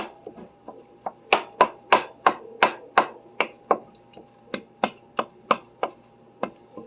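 A spoon breaking up Jimmy Dean ground sausage in a pan, heard as a rapid series of about twenty sharp knocks and scrapes against the pan, close and distinct with no voices.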